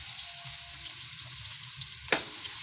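Garlic frying in butter and oil in a hot pan makes a steady, close sizzle, with a single sharp clack near the end.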